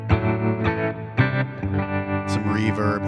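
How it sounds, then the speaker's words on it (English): Electric guitar through a TONEX modeled Fender Twin amp, a short run of rich chiming chords and notes with chorus-like shimmer and a bent note at the end, clear and close. "Moving on to a Fender Twin."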